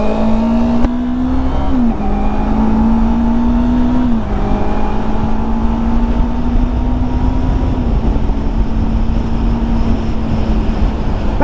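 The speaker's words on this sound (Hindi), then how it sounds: "अभी हम चलाएंगे द माइटी R3 सारा को।" A Yamaha R3 motorcycle engine runs steadily at a loud, close, constant pitch, with brief dips where the revs shift, and no talking over it.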